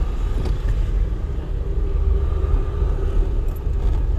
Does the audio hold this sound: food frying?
no